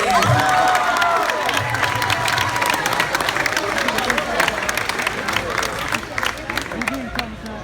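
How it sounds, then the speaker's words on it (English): A crowd at a high school Project Grad hypnotist show applauds and cheers loudly and continuously, with dense clapping, whoops and shouting voices that taper slightly toward the end. "round of applause, everybody"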